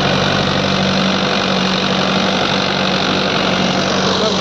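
An engine-driven tilling machine ploughing a flood-soaked, water-filled field runs at a steady idle-like drone, loud and continuous with a low mechanical hum and no speech over it.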